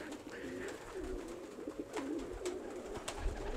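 A female racing pigeon coos softly and repeatedly at close range, low rolling calls over a faint background hum.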